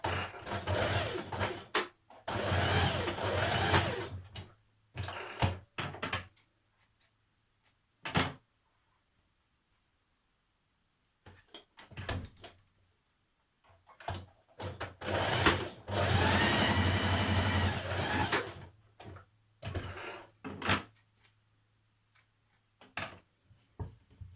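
A sewing machine stitches a trouser seam with a 1.5 cm allowance in several loud, rapid bursts of whirring needle, separated by quiet pauses and occasional clicks as the fabric is repositioned.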